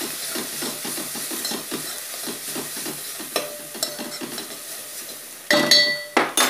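Spoon stirring a bread pizza topping mixture with oregano in a pan, producing a series of soft rhythmic scrapes under a faint sizzle, followed by a few sharp metallic clinks near the end.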